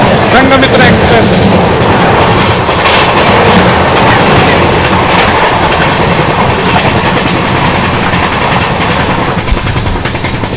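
The Sanghamitra Express rushes past at close range, a loud continuous roar with rhythmic clickety-clack of wheels over rail joints, sustained throughout.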